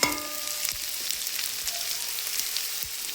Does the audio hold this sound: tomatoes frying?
yes